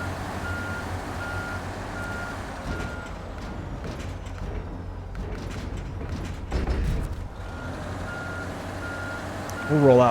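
Heavy trucks in SnowRunner reverse with a repeating electronic backup beep, steady and evenly spaced, over a low engine drone, with a brief mechanical thump near the end.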